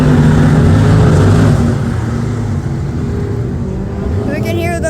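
Race cars roaring around the track at Cayuga Speedway, a loud, steady engine drone that fills the scene throughout, dipping slightly after the first second and a half, with people talking over it.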